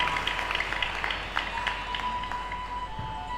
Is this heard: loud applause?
yes